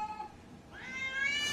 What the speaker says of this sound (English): Cats in video games.